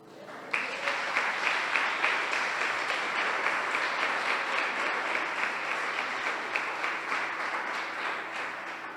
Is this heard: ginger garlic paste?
no